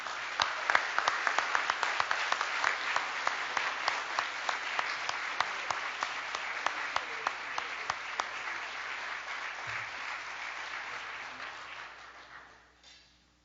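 Audience applause at a university Regents' Alumni Awards ceremony welcoming recipient Frank Hill, a steady wash of many hands clapping that runs loud and even for about twelve seconds, then tapers off at the end.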